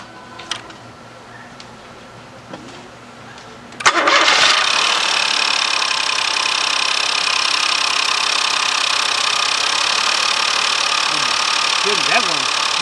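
A Ford engine with a newly replaced oil pump and timing belt cranks briefly, then fires up and settles into a steady, loud idle with a light ticking, after some quiet shop sounds.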